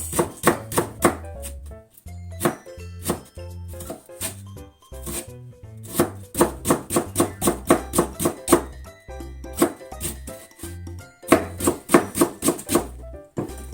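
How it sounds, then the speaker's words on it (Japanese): A knife julienning potato on a cutting board makes rapid, crisp chopping taps in bursts, with short pauses between runs. The cutting is close and loud, with no talking. "これを適当に千切りにしていきますよ。"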